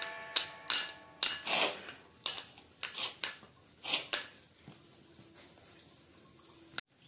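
Homemade Bala Amrutham biscuit dough pressed flat with a roller, a series of soft rhythmic thuds and rolling strokes close by, then a quieter stretch with a faint hum and a final sharp knock, no talk.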